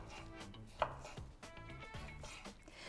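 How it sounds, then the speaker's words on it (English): Sharp knife slicing through steak against the grain on a board for a stir fry, a run of close, crisp chopping cuts at a steady rhythm with no talk. "I'm gonna cut each one against the grain like this"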